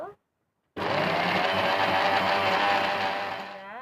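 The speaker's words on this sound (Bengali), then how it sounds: "মশলাগুলো সাজানো হয়ে গেছে বন্ধুরা এবার বেটে নিব" Steady electric grinder whirring as it grinds spices in a home kitchen, a continuous loud motor drone that starts abruptly after a short silence and holds for about three seconds.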